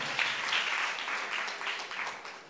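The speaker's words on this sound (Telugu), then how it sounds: "కొడదాం చప్పట్లు." A church congregation breaks into applause during a pastor's sermon, a soft, fairly distant patter of many hands clapping continuously for a couple of seconds.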